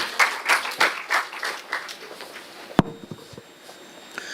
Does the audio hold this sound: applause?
yes